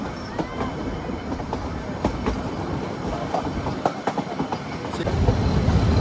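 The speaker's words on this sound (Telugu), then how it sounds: "మన ట్రైన్ వచ్చేసి ఇప్పుడు ఈ యొక్క చెట్ల మధ్యన ట్రావెల్ చేస్తుంది" Steady rumble of the Ooty toy train travelling through eucalyptus forest on the Ooty to Coonoor line, with recurring wheel clacks and light squeals, close and continuous, growing louder toward the end, no voices.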